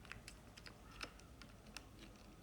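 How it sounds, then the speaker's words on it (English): Clicky keystrokes on a Corsair K70 mechanical keyboard with a loose, wobbly spacebar, a dozen or so sharp taps in an irregular typing rhythm, close and fairly quiet with no talking. "the spacebar has a lot of movement wiggle"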